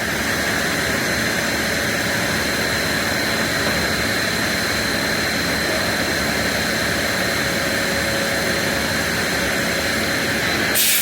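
A Land Rover automatic transmission runs on a test unit in third gear, giving a loud, steady whine and broadband roar with a constant high tonal hum, unbroken for the whole stretch and with no talk.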